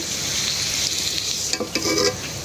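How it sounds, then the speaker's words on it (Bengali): Garlic frying in hot oil, a steady close sizzle with a few brief stirring scrapes near the end, no voices. "রসুন ভাজা হয়ে গেল, উঠাই নিই"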